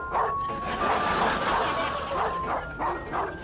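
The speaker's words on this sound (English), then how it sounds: "how long are those dogs gonna be barking for?" Several dogs bark and yip in a busy, continuous mix while music plays along with it, the barks landing in uneven bursts at moderate loudness through the whole stretch.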